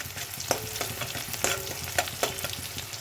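Chopped onion frying in a pan for egg korma, a steady close sizzle with repeated stirring scrapes at regular intervals, no voices.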